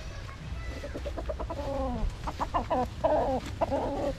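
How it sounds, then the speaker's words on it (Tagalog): White Kelso gamefowl chickens cluck in a short series of close, repeated calls at a poultry farm, with the clucks growing busier toward the end over a low background rumble. "Yung mga white kelso natin medyo naglulugon na."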